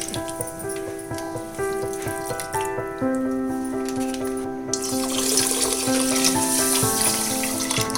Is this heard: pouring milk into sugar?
yes